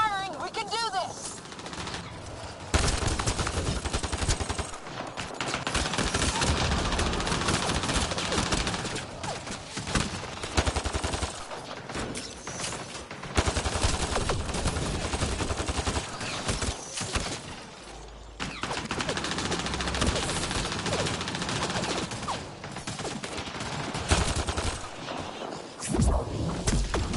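Sustained gunfire in the video game Mass Effect: Andromeda, rapid automatic bursts and fusillades continuing loudly for a long stretch with brief pauses, mixed with shouting voices.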